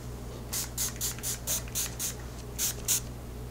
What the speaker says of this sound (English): We're gonna spray some of this Farsali right now too